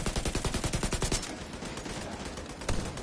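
Rapid automatic gunfire rattles in a fast, even burst for about a second in the Division 2 video game, then gives way to a dense noisy wash with one more sharp shot near the end.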